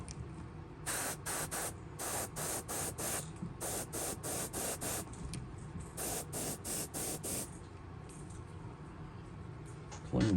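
An airbrush-style paint spray gun coats a custom fishing lure, giving repeated short hissing bursts in quick groups with brief pauses between, close and fairly quiet.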